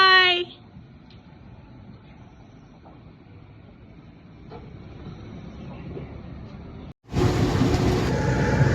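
A local train rumbles steadily at New Delhi railway station, a low mechanical drone that briefly drops out before a much louder surge of train noise takes over near the end.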